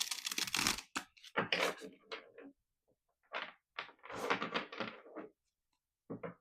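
Tarot cards shuffled by hand in quick riffling bursts separated by short pauses, close and fairly quiet with no talking.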